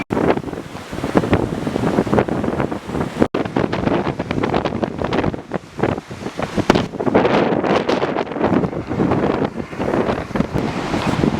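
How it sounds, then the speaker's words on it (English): Strong beach wind near Bondi, Sydney, pummels the microphone in loud, uneven gusts, with the wash of surf underneath and brief dropouts between blasts. "It's too windy"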